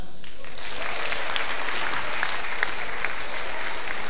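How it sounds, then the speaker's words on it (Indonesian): An audience at an Indonesian stand-up comedy show breaks into loud, sustained applause for Mercu Buana, a thick, even wash of clapping that fills the room from start to finish without pause. "tepuk tangan buat mercu buana"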